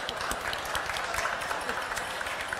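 Audience applause greeting an acclaimed guest author at an interview event, a dense, steady patter of many hands clapping that fills the whole stretch without letup.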